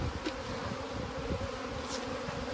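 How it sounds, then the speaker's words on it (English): Dense swarm of bees from an abandoned hive box, a steady continuous buzzing drone throughout, close and fairly loud with no talking. "just look at those bees like crazy. There you go, they're all airborne now."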